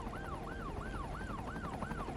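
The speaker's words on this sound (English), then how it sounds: "Hey guys, you have to move out of the way for the ambulance." In the city-building game Cities Skylines 2, an ambulance siren sweeps up and down in an even, repeating cycle. It plays at moderate volume over a rumble of city traffic, with no voices.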